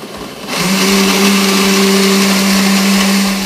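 An electric blender whirs loudly and steadily as it mixes homemade lemonade with about half a litre of added water, starting abruptly after a quiet moment and running without pause.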